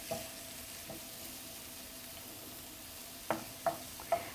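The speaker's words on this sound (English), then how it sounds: "So we are just waiting for the onions to soften." Onions and green chilies fry in a pan with a faint steady sizzle throughout, broken near the end by three sharp clacks of a spoon stirring against the pan.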